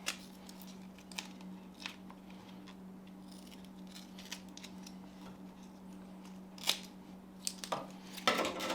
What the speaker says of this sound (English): So we're going to cut another piece.